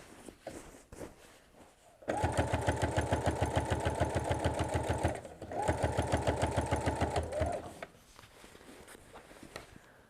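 A sewing machine runs in two steady bursts of rapid, even stitching, joining quilt rectangles for a lap quilt, loud and close, with a short pause between runs and quiet room sound before and after.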